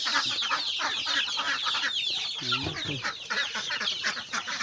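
A backyard flock of chickens clucks and chatters continuously, nearby and fairly loud, with one hen's rising squawk standing out in the middle.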